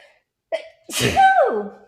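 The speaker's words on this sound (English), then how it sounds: "And I'm going to sneeze." A single sneeze, a short sharp intake followed by a loud explosive burst that trails off, close and alone.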